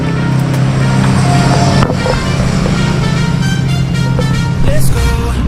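Rented motorbike ridden along roads on Pulau Weh island, a loud continuous engine hum with rushing wind close to the rider, steady throughout with a few brief knocks.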